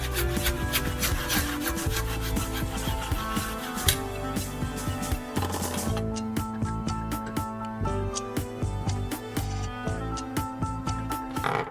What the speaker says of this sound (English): Then, I use a saw to cut off the excess part.